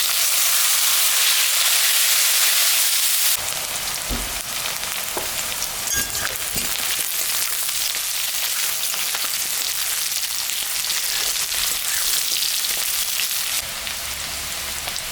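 Potatoes and onion fry in a pan for a pangas fish curry, giving a loud continuous sizzle and hiss that shifts in tone partway through, with occasional light stirring knocks and no speech.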